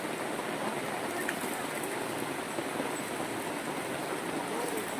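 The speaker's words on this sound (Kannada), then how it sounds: "ಮಳೆ ನೀರು ಹರಿಕೊಂಡು ಹೋಗ್ತಾ ಇದೆ." Heavy rain pours on a hill path used by pilgrims while rainwater streams downhill, making a dense, constant rushing hiss that stays loud and unbroken throughout.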